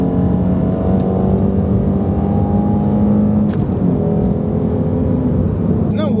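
A Shelby GT350 engine holds a steady, loud droning note while the car corners at high speed, heard from inside the cabin with a brief whir partway through.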